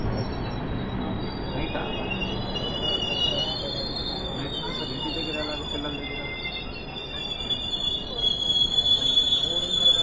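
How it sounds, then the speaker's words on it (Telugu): The Janmabhoomi express from Lingampalli to Visakhapatnam grinds along the rails with a sustained high wheel squeal over a low rumble, growing louder near the end as the cars pass close by. "లింగంపల్లి నుంచి విశాఖపట్నం వరకు వెళ్ళే జన్మభూమి."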